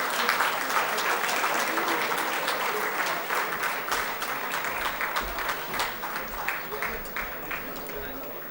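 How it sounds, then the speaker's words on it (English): Sustained dense applause from a convention audience at a valedictory session fills the room, steady and full, then thins slightly toward the end with some individual claps and voices showing through. "Let's have a huge round of applause."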